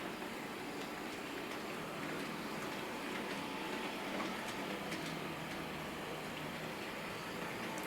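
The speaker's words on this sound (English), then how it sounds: "here comes Redmire. We've got it pulling a small freight train." Bachmann Class 20 model locomotive Redmire, 32-035K, pulls a small freight train, giving a faint, steady running hiss with light track clicks throughout and no voices.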